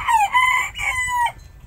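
A gray rooster crows once, a full close-up cock-a-doodle-doo rising and falling, clear with little else around it.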